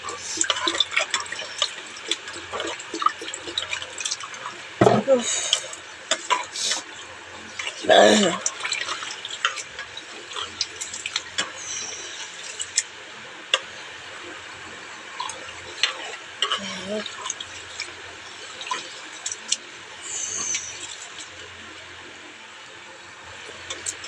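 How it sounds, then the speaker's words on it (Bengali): Rice being washed by hand in water at a home kitchen sink, with tap water running and light splashing and dripping, a few louder sloshes standing out; a person talks in the background. "এই চালটা ওই জন্য ধুয়ে নিচ্ছি ভালো করে"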